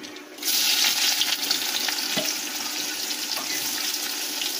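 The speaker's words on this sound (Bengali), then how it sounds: "ওই আলু ভাজার তেলেতে আমরা দারচিনি, এলাচ আর লবঙ্গ দিয়ে দেব। দিয়ে পেঁয়াজ কুচিগুলো দিয়ে দেব।" Chopped onion hits hot oil left over from frying potatoes, along with cinnamon, cardamom and cloves, bursting into a loud, close sizzle that stays steady and dense throughout.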